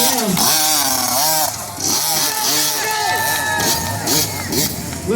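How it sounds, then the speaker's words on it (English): A KTM dirt motorcycle climbs a hillclimb course in the micro mini class, its engine revving and whining in rising and falling pitch, loud and close, with a crowd murmuring and cheering throughout. "next up in the starting gate is Abel Divin-Bliss from North Rose, New York on the KTM"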